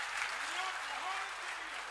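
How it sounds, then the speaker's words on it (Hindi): Audience applause at a Hindi comedy show in Kanpur, a steady dense clapping that fills the whole stretch, with a voice faintly heard under it. "तालियां कमजोर हैं आपकी, हाँ ठीक है, ऐसे ही बजाते रहिए।"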